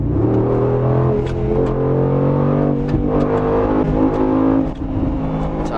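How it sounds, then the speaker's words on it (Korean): A Mercedes-AMG G63 engine in sport mode drones with a deep, steady rumble under load, its tone rising slightly. The sound stays close and loud throughout, with no talk over it. "엔진 사운드가 달라지죠."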